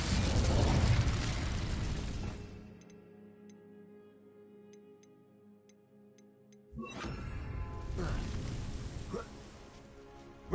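An Incendio fire spell is cast in Hogwarts Legacy on PS5: a loud roaring whoosh and crackle of flame, then a quiet stretch with faint ticking, then a second burst of rushing fire.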